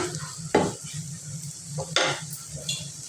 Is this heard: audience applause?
no